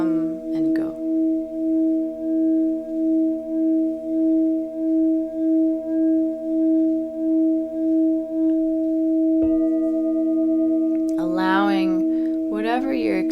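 Singing bowl ringing during a guided meditation, a sustained pure tone with a slow, regular wavering pulse that fades and then swells again, with a voice speaking briefly at the start and again near the end.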